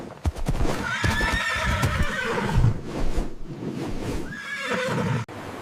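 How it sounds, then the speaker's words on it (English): A horse neighs and whinnies loudly and close up, with snorting and hoof clip-clops mixed in across several seconds, ending in a sharp cutoff, with no talking. "It's a horse."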